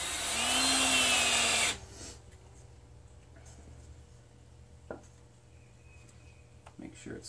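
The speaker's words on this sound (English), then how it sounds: "Now I run my drill on low, so I seem to get better control over the drill that way" A power drill runs on low speed driving screws into boards, a loud whine for about two seconds, then stops, leaving quieter handling knocks and clicks.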